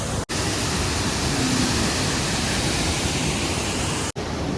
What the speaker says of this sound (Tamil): இது வாட்டர் ஃபால்ஸ், ஒரு ட்ரெக்கிங்கே இருக்குது.